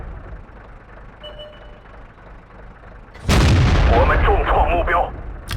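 A WZ-131 tank's gun fires in World of Tanks, a loud close boom that cuts in abruptly over low rumbling engine noise, with a commentator talking over the game sound.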